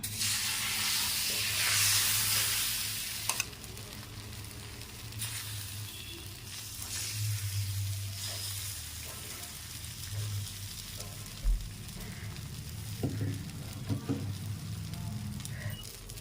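A red lentil dosa cooking on an oiled pan hisses steadily, loudest at the start and then settling into a quieter, even sizzle with a few small clinks and taps, no voices.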